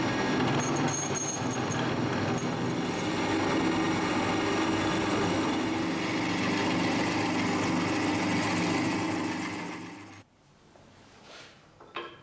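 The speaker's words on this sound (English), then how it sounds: "I'm just going to centre drill this, then pilot drill it, and then finish it with a 14." A metal lathe centre drilling a workpiece under tailstock power feed, giving a steady dense mechanical whir with a whining high edge that runs loud for about ten seconds, then cuts to near quiet with a few faint clicks.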